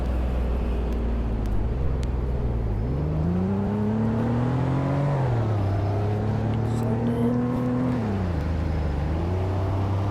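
A Mazda RX8 driven in sport mode on a back road, the rotary engine rising and falling in pitch as it accelerates and shifts, heard steadily from inside the car with faint talk.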